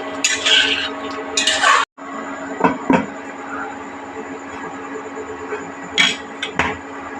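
Gathi kochu curry stirred in a pot with a ladle, a few clattering scrapes and knocks of utensil on metal followed by the pot being covered, then quieter scattered stirring sounds nearby.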